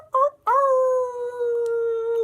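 A person imitates a wolf howl, with a short rising yelp followed by a long sustained tonal howl that slowly falls in pitch. The voice is close and clear, with no other sound under it.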